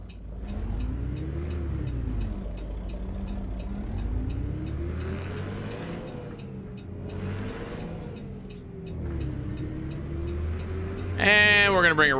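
An American Truck Simulator truck's Cummins NH 220 diesel engine drones steadily, rising and falling as it revs through gears, with a faint rhythmic ticking and a brief squeal at the end.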